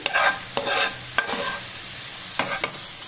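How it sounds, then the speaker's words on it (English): Mushrooms sautéing in a pan with salt: a close, bright sizzle broken by a few scraping strokes of a spatula, no talk. "Saute it nicely."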